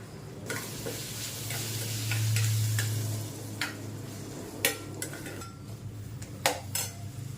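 A utensil scrapes and clinks against a pan while spice masala with coriander powder sizzles, with sharp metallic taps scattered through the stirring, for a small-onion garlic kuzhambu.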